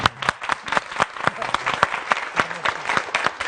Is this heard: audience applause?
yes